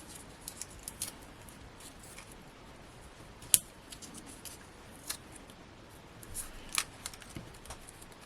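Scissors snipping 1mm foam pads in half during cardmaking, a few sharp separate cuts with one loud clear snip, close and quiet overall, with no talk.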